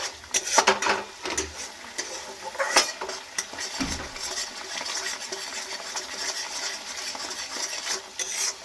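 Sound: stir-frying masala on low flame for egg curry

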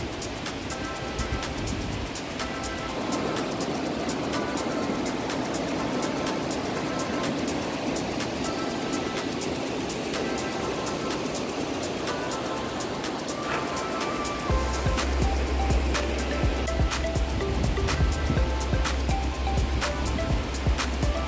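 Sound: mountain river water flowing in Boconó, Venezuela

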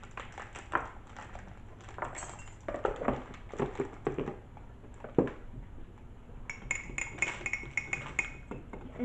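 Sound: spoon stirring mug cake batter with cocoa powder in mug

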